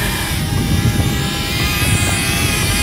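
A DJI Flip drone flies in strong wind, its loud, steady propeller whine close and continuous under heavy wind buffeting, with no talk.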